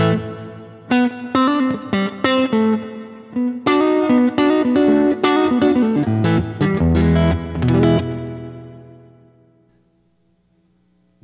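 A Durham Electronics Reddverb reverb pedal with the mix knob turned up gives a wet, spacious wash to a series of strummed and picked electric guitar chords, and the last chord rings out into a long fading reverb tail.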